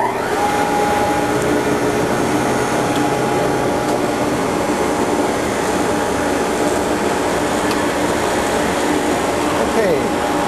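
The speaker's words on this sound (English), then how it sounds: "So I'll turn on the power here and fire up the motor." A lathe motor spins a honing lap at about 400 RPM, giving a steady, loud electric whir with a constant hum throughout and no clear voices.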